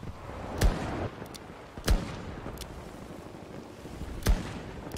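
Heavy gunshots boom in the Battlefield 2042 video game, three widely spaced loud blasts over a constant rumbling battlefield background.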